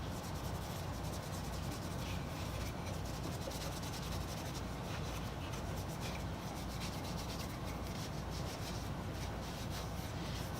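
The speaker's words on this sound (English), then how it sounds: "Put some wax on it." Wax being rubbed by hand onto a wooden hand plane tote for a Defiance No. 3 plane, a continuous soft dry rubbing hiss at low level with no pauses or voices.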